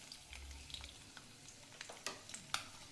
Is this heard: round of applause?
no